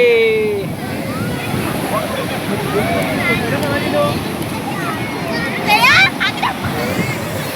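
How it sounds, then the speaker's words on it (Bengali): Big sea waves rolling onto a Kerala beach, a continuous loud wash of surf and wind noise with a voice talking excitedly over it. "মারাত্মক মারাত্মক ঢেউ আসছে"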